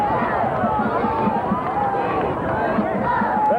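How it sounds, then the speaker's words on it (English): A crowd at a 1995 high school football game, Hand versus East Haven, keeps up a dense, continuous babble of cheering and shouting voices at steady loudness throughout. "You had trouble getting through the big crowd here tonight"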